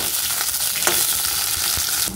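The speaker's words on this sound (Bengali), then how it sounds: "অনেকটা সময় ধরে কিন্তু উচ্ছেটাকে ভেজে নিয়েছি লাল লাল করে" Bitter gourd frying in hot oil, with a dense, loud, continuous sizzle and occasional stirring scrapes, no voices.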